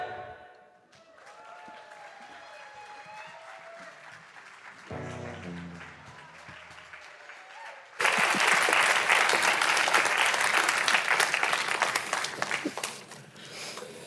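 A church congregation bursts into loud, sustained applause after a stretch of quieter music with singing. The dense clapping runs for several seconds and then fades.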